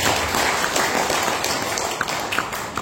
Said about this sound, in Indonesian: Maka boleh tepuk tangan untuk perusahaan kita Bapak Ibu